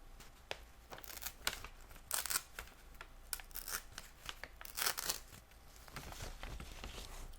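Paper is torn off and crinkled close up in a quiet setting, with soft, intermittent ripping and crackling bursts spread across the stretch.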